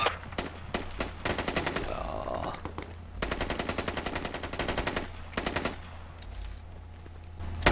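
Automatic gunfire from a teammate's weapon in the military game Squad, with rapid bursts of machine-gun fire separated by short pauses, loud and close and lasting several seconds.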